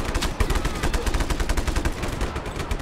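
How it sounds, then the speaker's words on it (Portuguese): Automatic gunfire in the video game Just Cause 3, a loud, rapid rattle of machine-gun shots in a steady burst lasting the whole stretch, with no talking over it. "Tiro!"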